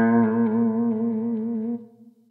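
Distorted electric guitar sustaining a single note on the sixth string while it is bent up a whole tone, rich harmonics ringing with effects and slight waver before fading out.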